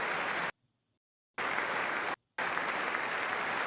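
Applause from a crowd, heard as two bursts of dense, steady clapping separated by abrupt silences, fairly close and fairly loud.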